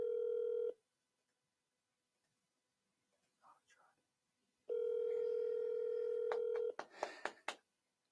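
Ringback tone on an outgoing telephone call, held close to a microphone: a steady buzzing tone rings for a moment, goes silent for several seconds, then rings again for about two seconds before a burst of clicks and handling noise.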